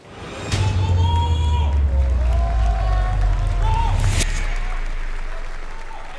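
A crowd at an esports event cheers and applauds loudly and continuously, then fades slowly, with a commentator talking over the noise.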